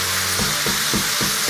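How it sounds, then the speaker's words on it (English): Steady, loud sizzling of food frying in a pan, with a few soft stirring or scraping thumps over the continuous hiss. "Yes, it is a sizzling up in here."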